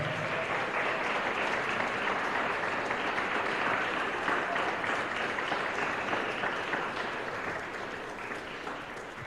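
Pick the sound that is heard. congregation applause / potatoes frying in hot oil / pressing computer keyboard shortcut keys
congregation applause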